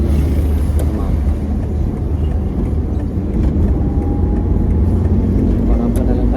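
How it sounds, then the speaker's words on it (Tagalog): Steady road traffic noise from cars driving in slow, congested traffic in Germany, a continuous low rumble of engines and tyres with occasional passing sounds, heard from inside a moving car. "Traffic kasi last hour."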